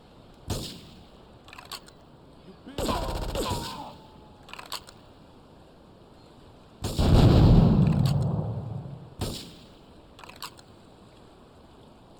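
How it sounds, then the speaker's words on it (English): Gunfire in GTA 3 comes as scattered single shots and short bursts with quiet stretches between them, plus one heavier, longer blast with a booming low tail. "doing pretty good on my shooting right now"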